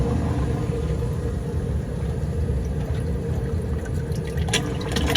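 A replacement sump pump running in its basin, a low steady rumble with a faint watery wash, quiet and continuous.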